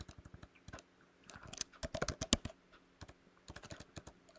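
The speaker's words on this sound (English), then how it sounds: "So if I'm going to type in small j now, it's still going to search it." Someone types on a computer keyboard nearby in quick, irregular bursts of crisp key clicks with short pauses between them, quiet overall and with no talking.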